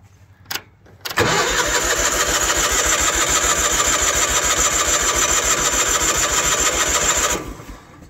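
A Ford F8000 truck that has sat unused for a few years cranks and catches, its engine roaring up after a brief click and settling into a loud, steady running drone close by before cutting off.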